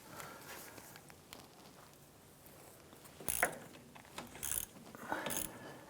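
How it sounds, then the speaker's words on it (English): A hand ratchet with an 11mm socket loosening an engine mount bolt on a 1994-2004 Chevrolet S10, giving a few short bursts of quick metallic clicking up close against a quiet background. "Use an 11mm socket with your ratchet."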